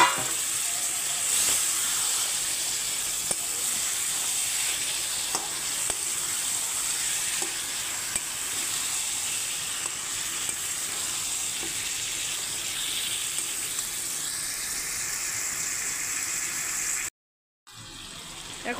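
Chicken pieces added to fried spice paste for chicken kurma, sizzling in hot oil with a steady hiss and occasional stirring scrapes, briefly cutting out near the end.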